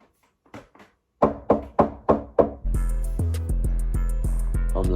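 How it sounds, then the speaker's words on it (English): Five loud, sharp knocks on a door in quick succession come alone, with no voices, and give way to sustained music. "why is she knocking?"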